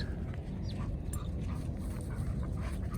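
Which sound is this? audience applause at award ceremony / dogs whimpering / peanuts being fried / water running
dogs whimpering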